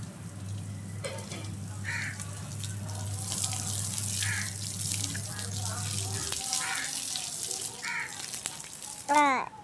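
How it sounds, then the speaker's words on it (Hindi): Water runs while rose plants are watered, a steady faucet-like flow that stops partway through. Intermittent clinks and splashes follow, with a brief sharp sound at the end. "पानी टैंक में बहुत स्लो हो गया, जिसकी वजह से हमें तराई बंद करनी पड़ी।"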